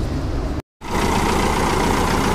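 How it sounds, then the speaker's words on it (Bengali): The engine of a Trafi Gajraj 5900 vehicle idles close by with a steady, even rumble, broken once by a very short dropout. "তো এই ছিল ইঞ্জিনের আওয়াজ"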